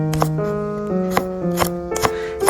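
A knife slices through garlic cloves on a cutting board, giving crisp, regular taps about every half second, set beneath steady background music.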